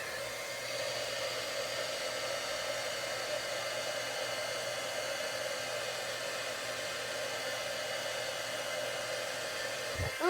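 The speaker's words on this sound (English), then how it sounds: "So now we're gonna heat set this." A heat tool runs steadily to heat-set stamped ink on paper, giving a constant close blowing whir with a low hum that holds for about ten seconds before a brief clunk at the end.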